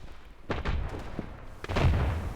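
Gunfire in the mobile shooter Standoff sounds as two muffled, booming bursts of shots a second apart, fairly faint and compressed, with no voices heard.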